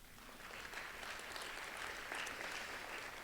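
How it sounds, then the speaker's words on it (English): Steady applause from a crowd fills the whole stretch, a dense patter of many hands clapping with no voices breaking through. "So give yourselves a round of applause."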